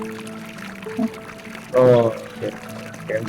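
Water rushes briefly in the Pepelo co-op video game, a short pouring, filling burst about halfway through, set among quieter game sounds and a talking voice.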